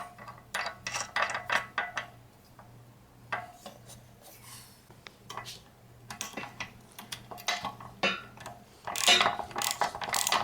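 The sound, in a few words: tightening bolt and nut on Gold's Gym XRS 20 with ratchet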